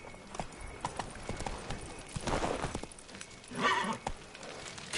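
Roach, a horse in the video game The Witcher 3, gallops with a steady, rhythmic clip-clop of hooves that stays fairly quiet throughout. Brief swells of other game sound rise in the middle of the run.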